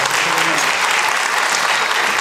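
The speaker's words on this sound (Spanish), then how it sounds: "Denle un aplauso a Manny una vez más." A church congregation applauds in a steady, dense wash of clapping, loud and continuous throughout with no break.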